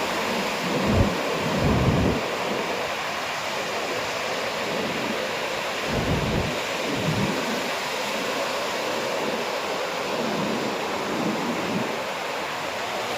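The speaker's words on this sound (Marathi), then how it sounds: "आता बघा किती मोठी लाट आहे." Big ocean waves at Chivla Beach in Malvan: a steady, loud roar of surf, with heavier low rumbles as waves break now and then, and no talk.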